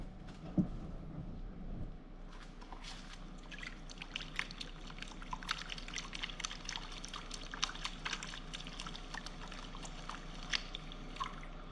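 Water sloshing and trickling in a gold pan during the final panning of black sand, a continuous close, gentle swirling with small splashes and a steady low rumble underneath.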